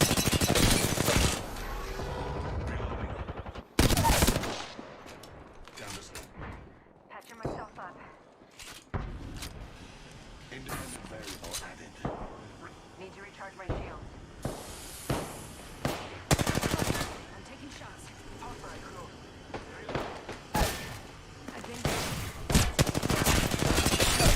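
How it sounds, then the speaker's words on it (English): Rapid bursts of gunfire in a ranked Apex Legends match, loud and close, with heavy volleys and scattered single shots broken by short lulls, while a player talks over the fighting. "They spotted me. I'm getting shot."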